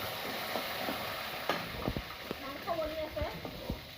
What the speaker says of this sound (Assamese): এইয়া মাংস বনি আছে বাহিৰত